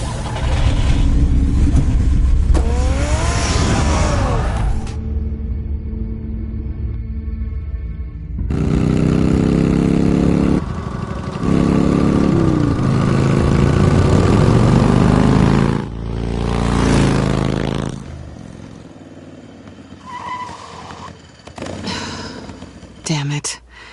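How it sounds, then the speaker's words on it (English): A car engine from a Batman video game, revving and driving in loud bursts with thuds and cuts between them, heard with game music and effects; voices talk at some points. "Get the car ready, Alfred"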